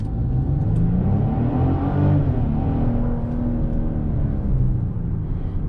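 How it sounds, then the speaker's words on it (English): A 2022 Genesis GV70 SUV accelerates at moderate throttle, its engine droning and rising in pitch with a steady low rumble and road noise, heard from inside the cabin. "Let's go ahead and do an acceleration right here."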